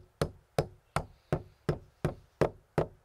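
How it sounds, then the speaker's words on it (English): Long pepper pounded in a mortar with a pestle: eight sharp, evenly spaced strikes at a steady rhythm, each with a short decay, close and clear with no talking. "Then we grind in the mortar the long pepper."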